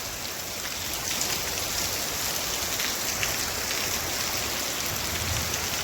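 Steady rain pours down in a continuous, even hiss with dense patter on surfaces, close and moderately loud throughout, with no voices.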